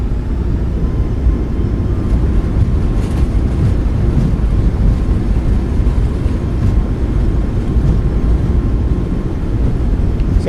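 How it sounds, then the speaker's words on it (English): Boeing 737 MAX 8 airliner on landing rollout at Oslo Gardermoen with thrust reversers deployed in a flight simulator, a loud, steady broadband engine roar and rushing wind noise that holds evenly for about ten seconds. "Nose down gently, reversers are out,"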